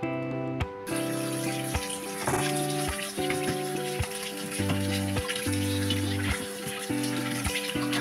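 Pork ribs are washed under a running tap, with water gushing and splashing steadily at close range over a short stretch, no voices heard.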